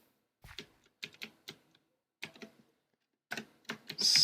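Typing on a computer keyboard in bursts of quick, close clicks separated by short pauses, with a louder cluster of keystrokes at the end.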